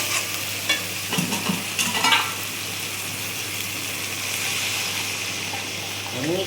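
Bengali spice paste for a mullet fish curry frying in oil, stirred continuously with a spatula, giving a close, steady sizzle with scraping strokes early on and no talk.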